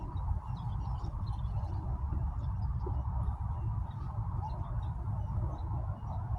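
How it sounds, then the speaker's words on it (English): Dense outdoor bird chatter, goose-like honks and calls from many birds all around, a continuous busy flock with steady low background noise. "I got birds all around me."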